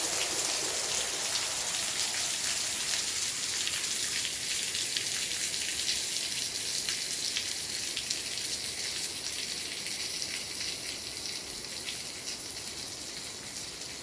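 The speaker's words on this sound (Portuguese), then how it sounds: "vou torcer para parar essa chuva" Steady rain pours outdoors onto a garden of desert rose plants, a dense, even hiss of drops hitting surfaces that holds at a constant level throughout, with no voices.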